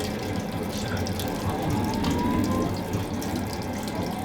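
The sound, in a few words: water running from a tap on a sleeper train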